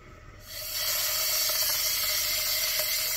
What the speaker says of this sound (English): Open that up and just let the pressure drop out of it.